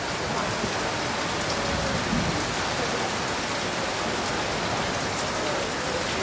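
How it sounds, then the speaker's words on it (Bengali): Heavy monsoon rain pours down in Sylhet, a dense, steady roar of drops hitting surfaces that fills the whole stretch without a break, loud and close. "আমাদের সিলেটে এখন প্রচুর বৃষ্টি হচ্ছে"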